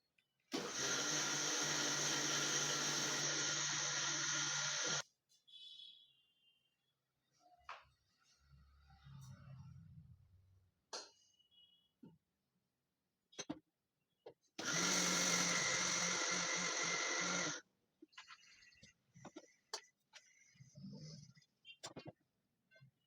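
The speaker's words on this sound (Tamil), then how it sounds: "மறுபடியும் ஜாரில் போட்டு கொஞ்சமாக இன்னொரு குறகுறப்பாக அரைச்சி எடுத்துக்கிறேன்" An electric mixer grinder whirs loudly as it grinds curry leaf and dal powder in a jar. Two roughly five-second bursts are separated by quiet stretches with faint handling clatter.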